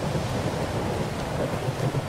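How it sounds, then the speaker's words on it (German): Steady stormy rumble of rain and distant thunder in the S.T.A.L.K.E.R. 2: Heart of Chornobyl video game, a continuous even wash with low rolling swells, no voices. "Nee, es ist doch ein einfaches Unwetter."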